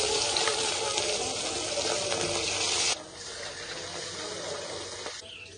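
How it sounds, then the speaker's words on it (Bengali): Steady hiss of katla fish pieces frying in hot oil, loud for a few seconds and then softer and thinner, with no voices. "বাদ বাকি মাছের পিসগুলো ভেজে নিচ্ছি।"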